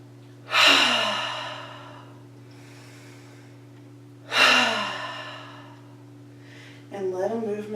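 Two deep, audible breaths taken during a standing yoga practice, each a loud, close whoosh of air that tapers off gradually, spaced about four seconds apart, followed by a brief bit of speech at the end.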